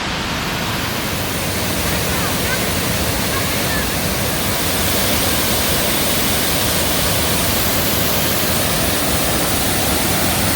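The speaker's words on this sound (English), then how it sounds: "this whole bloody cliff face is just one waterfall" A large waterfall pours down a cliff face in Xaysomboun, Laos, giving a dense, steady roar of falling water that stays loud and unbroken throughout, close by and alone.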